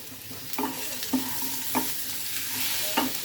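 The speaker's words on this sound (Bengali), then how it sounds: "ভেজে রাখা সয়াবিনগুলো দিয়ে দিব।" Fried soybean chunks and fried potatoes are stirred in a sizzling pan, with a steady frying hiss under four or five sharp spatula scrapes and knocks at uneven intervals; no one speaks.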